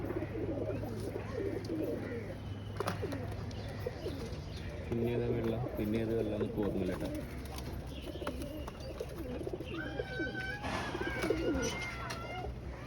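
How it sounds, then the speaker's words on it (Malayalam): Pigeons, a Rampur breed, coo in low rolling phrases close by, with other birds chirping higher up and people talking over them throughout. "ഇത് റാംപൂരിൻ്റെ വേറൊരു ടച്ച് പ്രാവ് കേട്ടോ"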